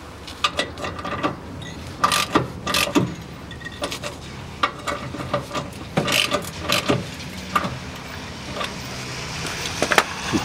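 Metal clamp on the air filter housing of a 2006 Hyundai Porter being tightened from below, giving a run of close, sharp scraping and clicking ratchet-like strokes in uneven bursts.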